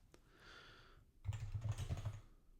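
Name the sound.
typing on a computer keyboard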